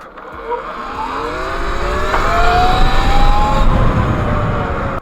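A Total E-Ride Pro electric bike accelerating hard from a standstill toward 60, its motor whine climbing steadily in pitch with rising tonal harmonics over rough road and wind noise, loud and close for about five seconds.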